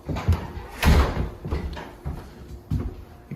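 A door closes in a house during a night investigation, giving a few dull thumps and knocks spread over a few seconds, fairly near, with faint background noise between the hits.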